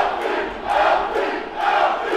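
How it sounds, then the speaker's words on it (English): Crowd at a boxing match shouting and chanting for fighter Alfie Clegg in his bout against Baraka Mchongi, a steady roar of voices that swells twice in loud waves. "As you can hear, the crowd is screaming Alfie name."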